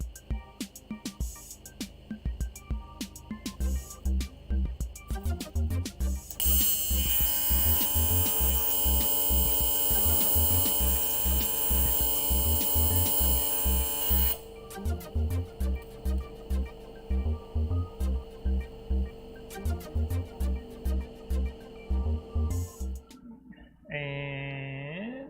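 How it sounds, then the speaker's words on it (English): A TIG welder arc balls the end of a tungsten electrode, giving a steady, loud electric buzz that holds for about eight seconds. Shorter buzzing pulses and clicks come before and after it. "I'm just going to put a bowl on the end of this tungsten"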